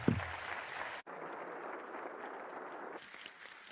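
Soft, steady applause from a symposium audience thanking the panelists, heard faintly and at a distance with no speech over it.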